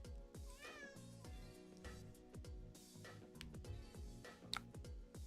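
A house cat meows several times in a rising, wavering voice over steady background music during a card game stream, with no talking.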